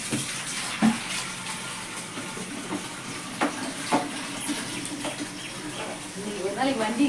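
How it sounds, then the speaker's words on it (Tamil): Water is poured and splashed for washing, a running, splashing wash at close range with scattered knocks and clatters, steady throughout. "வெறும் தண்ணி ஊற்றி கழுவிடும்."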